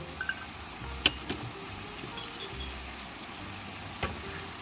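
Sweet potato stems fry in a pan with Cheongyang chili and green onion, a continuous soft sizzle under a few sharp clinks and scrapes of a utensil against the pan as it is stirred, close-up with no speech.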